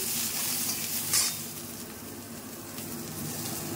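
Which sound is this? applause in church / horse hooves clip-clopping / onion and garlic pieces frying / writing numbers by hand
onion and garlic pieces frying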